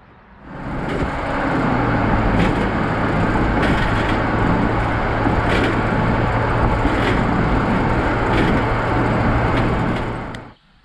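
A Can-Am Defender side-by-side riding on a trailer as it is towed down the road gives a steady, loud rumble of road and wind noise with a low drone, faint periodic knocks and no talking.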